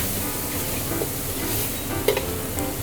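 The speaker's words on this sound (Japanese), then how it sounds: "ちょっとね、透明になるまでしっかりと水分飛ばしながら炒めていってください。" Meat stir-fries in oil in a pan for dandan noodles as its moisture cooks off, giving a steady, loud sizzle with a faint clink or two of the utensil.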